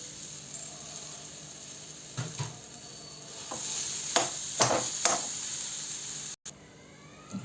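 Green gram dal, mashed soft with sugar and cardamom powder, being stirred in a pan, giving a quiet scraping rustle with several clearer strokes and a faint sizzle underneath, no voices.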